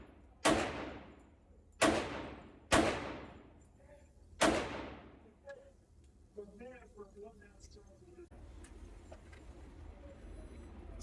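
Four sharp, loud gunshots from a handgun fitted with a Grizzly Gunworks Mini Ghost compensator muzzle brake, each followed by a decaying echo and spaced a second or two apart, then quieter handling clatter and a voice.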